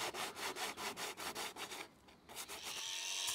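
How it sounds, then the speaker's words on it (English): A roof surface being sanded by hand with 40 grit sandpaper during topcoating: a steady rhythmic run of close, coarse rasping strokes, about three per second, then a brief lull and a continuous scrubbing rub. "sand the surface using 40 grit sandpaper"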